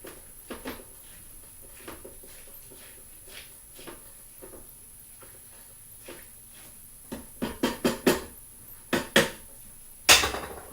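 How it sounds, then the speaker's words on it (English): A spoon stirs bean and brown rice vegetable soup in a pot, with soft scraping that gives way to a run of sharp metallic knocks against the rim and a final clatter, with no voice. "I'm going to stir it."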